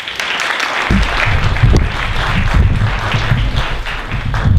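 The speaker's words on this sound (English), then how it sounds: "Let's have another round of applause for all of them, yeah?" Loud, dense audience applause fills the hall at a beauty pageant, a sustained wash of many clapping hands starting abruptly and continuing steadily throughout.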